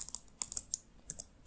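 Fingers tap quickly on a computer keyboard as an alert name is entered, producing soft, irregular clicking keystrokes close to the mic at low volume with no talking.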